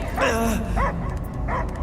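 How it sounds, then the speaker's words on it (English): A dog barks in the video game Guardians of the Galaxy, several short yelping barks and whimpers in quick bursts, fairly close and clear, set against a low game background hum. "I hear only barking."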